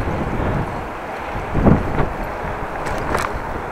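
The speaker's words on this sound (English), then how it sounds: "Wind in the face." Wind buffets a microphone while riding a bicycle on a winter day, a continuous rough rumbling roar that swells and eases, with a few faint thumps from the bike.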